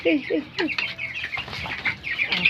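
Broiler chickens in a small backyard coop cluck and chirp repeatedly at close range, a busy overlapping flock sound with a voice briefly mixed in.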